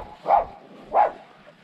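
A dog gives two short, loud barks about half a second apart, close by, with a quiet pause after each one.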